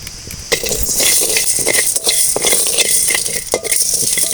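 Rice with fenugreek, pepper and asafoetida dry-roasting in a pan, a loud, dense hiss and crackle with a spoon scraping and rattling against the metal in irregular strokes, close up, no talking.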